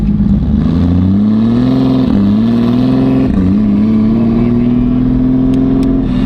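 A car engine revs hard and steadily through a newly fitted full exhaust with a deep, throaty rumble, close by and loud, holding a strong drone throughout.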